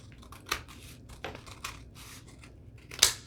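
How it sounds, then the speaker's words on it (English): A few quick, crisp snips of scissors cutting paper, spaced irregularly with quiet gaps between, the last snip the sharpest. "I could just cut it with scissors."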